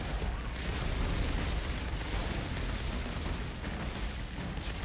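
Continuous dense roar of explosions and gunfire from the looter-shooter video game Outriders, with a Violent Rupture mod and Mammoth APOC SMG in play, loud, steady and broadband with no voices.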